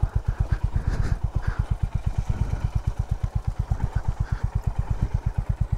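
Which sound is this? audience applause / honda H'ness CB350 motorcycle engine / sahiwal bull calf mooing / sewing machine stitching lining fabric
honda H'ness CB350 motorcycle engine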